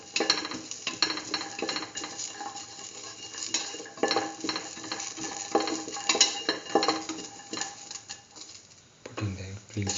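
A utensil stirs garlic and salt in a cooking pan, giving repeated scraping clinks and a light sizzle, close up, while a voice talks over part of it.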